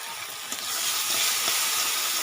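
Mustard paste frying and being stirred in a pan of oil with green chillies, a soft steady hiss and sizzle that swells slightly as it is stirred, fairly quiet and close.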